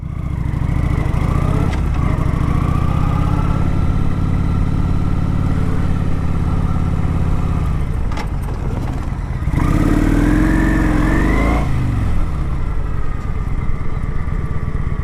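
A motorcycle engine runs loud and close, rising in pitch as it accelerates in low gear, settling briefly, then climbing again before easing off during an emergency braking drill.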